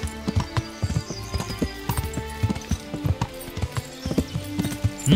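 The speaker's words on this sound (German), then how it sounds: "Dann reiten wir hier entlang." In the video game Kingdom Come: Deliverance, a ridden horse's hooves clip-clop in a steady trotting rhythm with close, distinct strikes. A soft snort or whinny can be heard near the end.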